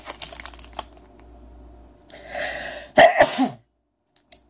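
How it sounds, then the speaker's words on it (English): A single abrupt human sneeze bursts out loud and close near the end, after soft crinkling of packaging during a Pokémon trading card box opening. "I did not want to sneeze."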